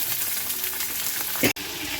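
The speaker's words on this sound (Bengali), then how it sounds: "আর দিয়েছি শুকনো লঙ্কা, গাজর, আর আপনার ক্যাপসিকামটা ভালো করে একটু ভেজে নেব।" Carrot and capsicum frying in hot oil with cumin seeds and dried red chilli, giving a steady sizzle with stirring scrapes and a brief sharp clatter near the end.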